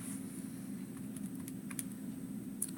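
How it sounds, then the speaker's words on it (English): Fingers tap numbers into a calculator in a quick, uneven run of light clicks, close up over a steady low hum. "Typing that into my calculator."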